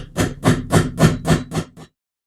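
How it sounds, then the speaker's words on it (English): Six sharp, evenly spaced metallic taps of a small hammer striking a punch against the sights of a Smith & Wesson Shield pistol slide, close and loud, each hit ringing briefly before the next, then stopping. "just a little hammer and a punch works better"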